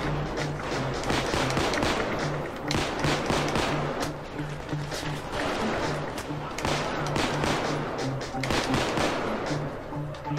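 Sustained gunfire from the heist shooter Payday 2 rattles almost without pause, dense overlapping bursts of shots loud and close from start to finish.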